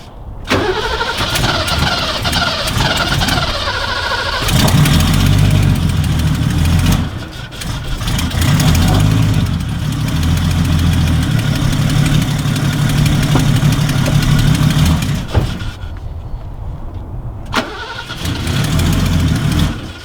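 A turbocharged BMW E34 with an aggressive cam idles loudly and close, its lumpy, uneven rhythm steady throughout, broken by two short pauses or blips where the engine note drops away before returning.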